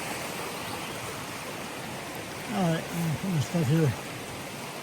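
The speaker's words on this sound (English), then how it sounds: "I've got some water out of this great stream. Great flow, great water. Oh, gushing water." Steady broadband rush of a mountain stream flowing on a forested trail, continuous and moderately loud, with someone talking briefly over it midway.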